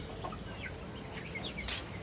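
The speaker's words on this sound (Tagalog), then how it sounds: "Ito yung mga itik ko." Pet ducks being shown off on a backyard poultry setup, with scattered faint quacks and calls over steady outdoor background noise, plus one louder burst near the end.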